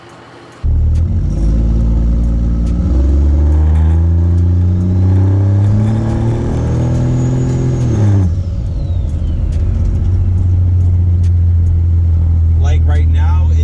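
A 12-valve Cummins diesel truck with an FTE resonator exhaust drives off. Its engine note climbs steadily as it revs, then drops back to a loud, constant low drone.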